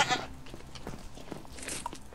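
Goat bleats from the Minecraft video game, a few short bleats repeating close and clear over a soft game background, with no talking.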